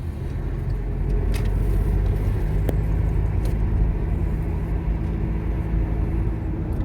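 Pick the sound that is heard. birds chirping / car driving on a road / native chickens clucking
car driving on a road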